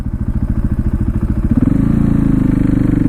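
Supermoto motorcycle engine under riding load, loud and close, a pulsing throttled drone that steadies into a smoother, higher sustained tone partway through, with wind rush around it.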